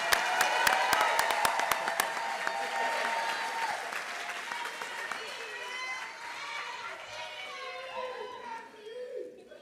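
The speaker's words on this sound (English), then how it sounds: "Join us in a round of applause for this stellar group of Classified Staff of the Year." A crowd gives a sustained round of applause at a school staff recognition celebration, steady clapping that carries on under chatter and scattered voices.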